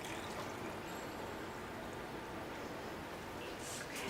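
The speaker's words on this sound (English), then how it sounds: "I like to do things quick, so I just pour it. And then I'll cover the pickles with it" Hot brine poured from a container over garlic dill pickles in a canning jar, a soft continuous stream of liquid running steadily, quiet and close, with no voices.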